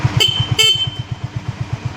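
A Honda CB 350RS horn gives two short, loud beeps over the steady, rhythmic putter of the motorcycle's idling engine.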